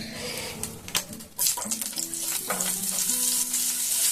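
Pav bhaji sizzles and fries in butter and refined oil, with a loud crackling hiss and stirring scrapes close up.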